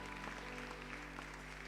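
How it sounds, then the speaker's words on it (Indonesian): A church congregation at a Sunday service applauds in a dense, even patter of clapping, faint and distant under a steady electrical hum. "Yang setuju kita berikan tepuk tangan yang terbaik."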